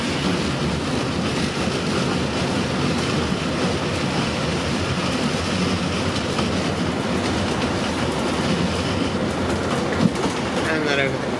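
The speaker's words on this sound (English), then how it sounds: "Great Western Railway service from Oxford to London Paddington." Great Western Railway passenger train running from Oxford to London Paddington, heard from inside the carriage as a steady, loud rumble with rhythmic clickety-clack of wheels on rail, continuous throughout.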